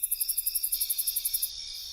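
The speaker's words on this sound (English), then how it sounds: "crickets." Crickets chirp in a fast, even pulse, about eight to ten bright chirps per second, clear and alone against quiet, then trailing off near the end.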